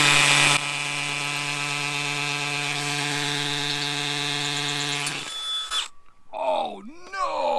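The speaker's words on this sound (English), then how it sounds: "We're gonna drill this out one more time." Power drill boring out a hole in concrete for a vinyl railing post, a steady close whine for about five seconds before stopping, followed by brief scraping and a voice.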